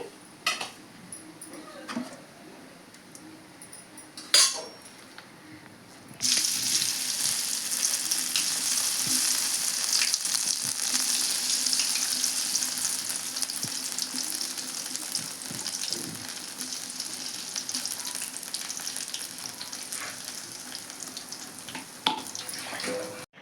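Dried fish pakoda hits hot oil after a couple of faint knocks, and a loud, steady, close-up sizzle starts and keeps going for a long stretch with no voices.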